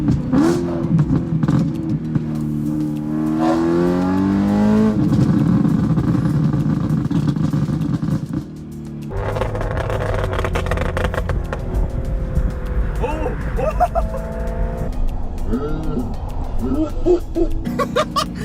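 A straight-piped, Gintani-tuned BMW M3 with a dual-clutch paddle-shift gearbox revs hard, its loud raw exhaust rising and falling through several sweeps with a brief dip midway, then crackling pops as the revs drop.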